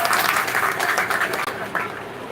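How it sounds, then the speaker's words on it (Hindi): An audience at a Shrimad Bhagwat Katha religious gathering in Darbhanga applauds, a dense roomful of clapping that fades slightly toward the end. "ताली वगैरह के साथ"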